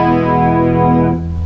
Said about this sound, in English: And you hear it in the full chord, major,